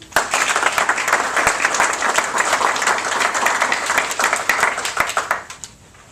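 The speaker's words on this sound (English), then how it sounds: "a little round of applause" Applause from attendees at a school board of education meeting, a lively round of many hands clapping at close range, steady and dense before tapering off near the end.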